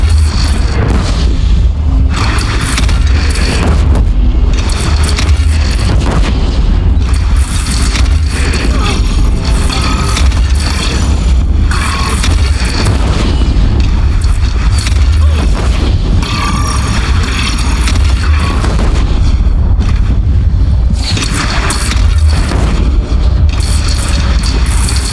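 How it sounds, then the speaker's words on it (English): Heavy booms from a cannon during a battle in Horizon Zero Dawn Frozen Wilds repeat at irregular intervals over a constant loud rumble, with faint voices mixed in. "They only have one cannon!"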